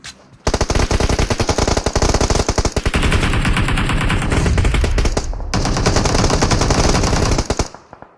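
Sustained automatic gunfire in the battle royale game PUBG Mobile on the Miramar map, loud and close, with rapid bursts running almost without pause and a brief gap near the end.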